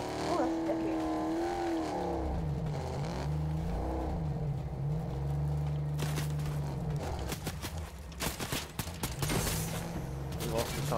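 Vehicle engine from a car driven in Fortnite, a steady revving drone that rises and falls under game music, followed by bursts of gunfire in a squad battle.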